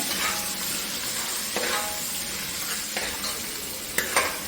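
Pulao spices frying in hot oil with a steady crackling sizzle, broken by a few sharp clinks of a spoon against the pan.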